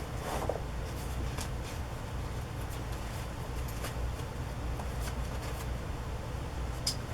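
Paper note cards are handled and sorted on a craft table, giving soft, close, intermittent rustles and flicks against a quiet hum, with no voices.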